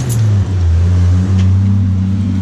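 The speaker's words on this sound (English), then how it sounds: "Got an unnecessarily loud Jeep outside" An unnecessarily loud Jeep engine rumbles just outside a dojo window, a steady, heavy drone that dips briefly and then holds. It stays loud and continuous for the whole moment, with no voices.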